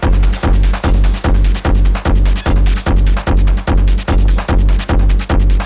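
Hard hypnotic techno kick pattern, a double kick switching to a triplet-grid kick fill in the second half of each bar, loud, steady and relentless with no talk over it.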